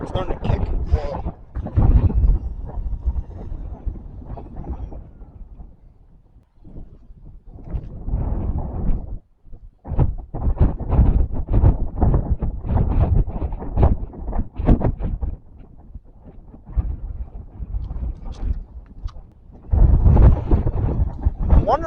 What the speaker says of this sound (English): Hopefully another huge wind gust doesn't come in.